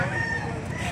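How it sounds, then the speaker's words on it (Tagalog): Chickens at a Filipino poultry sale, with clucking and a rooster crowing mixed into a dense, noisy background, partly under voices. "Dalawang manok mga boss."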